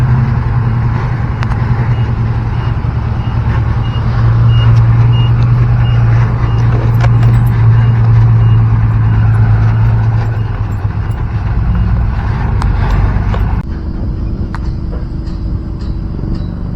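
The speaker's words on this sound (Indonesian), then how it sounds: "truk yang menuju lokasi pengerjaan tol membawa tanah timbunan" Heavy trucks hauling fill soil to a toll road construction site rumble past continuously, loud and close, with a low engine drone that holds steady and shifts near the end.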